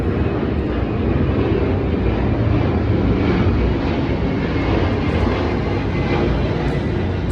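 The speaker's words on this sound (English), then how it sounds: "I'm sorry about the airplane." An airplane roars overhead near an airport, a loud, continuous broadband rumble that holds steady throughout with no speech.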